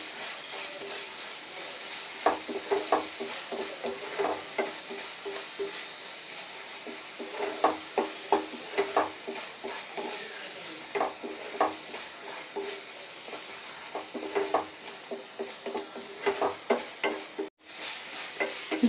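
Chicken gravy with coriander powder and cumin is stir-fried in a pan. A steady low sizzle runs beneath regular spatula scrapes and taps that repeat every second or so for the whole stretch, with no talk.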